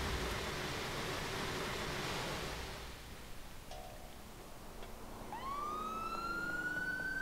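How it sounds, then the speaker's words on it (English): Steady hissing noise fades down, then a police siren in the video game GTA IV winds up halfway through, its rising wail climbing in pitch, moderately loud and synthetic-sounding. "Anyway, I got a new siren,"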